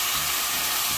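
Meat sizzles and fries in a nonstick pan, a steady, close, bright hiss of crackling fat that continues without a break and with no talking.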